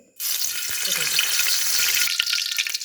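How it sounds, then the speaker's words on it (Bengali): Washed bay leaves hitting hot oil in a wok for beef and potato curry burst into a loud, bright sizzle that starts abruptly and holds steady, then thins out near the end, close up. "তেলটা একটু গরম হওয়ার পর আমি তেজপাতা ধুইয়ে ভালোভাবে"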